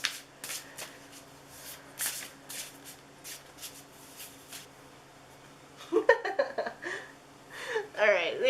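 A deck of oracle cards being shuffled in repeated riffling bursts through the first half, followed by a softer stretch where a voice talks.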